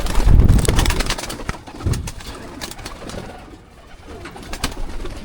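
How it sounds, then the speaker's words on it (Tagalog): Older racing pigeons in a loft, their flight feathers removed, coo in low murmuring phrases close by, mixed with scattered sharp taps and shuffling, loudest at the start. "ito yung mga old bird ko na tinanggalan ko ng pakpak"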